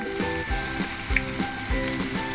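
Ginger garlic paste frying in a pan for egg fried rice gives a steady, close sizzle, with rhythmic music playing underneath.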